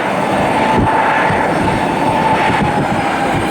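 An American Airlines jet in TWA retro livery after pushback at snowy Cleveland Hopkins airport gives a steady, loud broadband engine roar with a faint whine, continuous and unbroken throughout.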